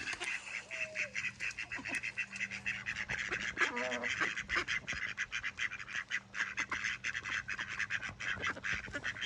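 Molting ducks in a park quack and honk repeatedly over a busy, noisy outdoor background, with calls coming in quick irregular bursts throughout.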